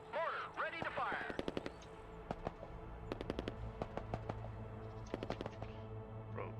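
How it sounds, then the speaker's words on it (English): Mortar fire and other weapons in the war video game Broken Arrow, rapid bursts of sharp reports in clusters, close and crisp, with brief radio-style chatter at the start. "Mortar ready to fire."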